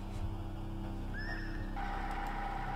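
A horse in the video game Five Nights At Candy's Remaster whinnies once in a high, shaky neigh over a constant background hum.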